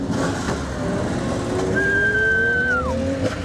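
Supercars run along Luxembourg roads, engines droning close with a rising, sustained whine from one car that sweeps up and then drops off, over a steady road rumble.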